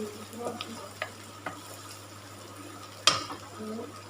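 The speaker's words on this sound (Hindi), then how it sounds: "1 मिनट के लिए हमने प्याज़ों के साथ इसको भी फ्राई कर लेना है।" Green chilies fry with onions in a pan for gobi fry, a soft steady sizzle with a low hum, punctuated by a few stirring scrapes and one sharper clack of the spoon.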